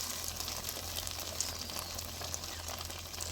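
Food fries in a pan of oil in a home kitchen, a faint, steady sizzle with soft crackles and a low hum underneath, and no voices.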